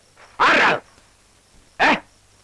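Two short sharp barks from a dog, the first slightly longer, separated by a quiet pause, fairly close and loud.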